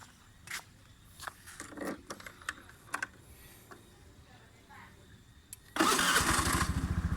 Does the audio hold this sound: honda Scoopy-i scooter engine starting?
yes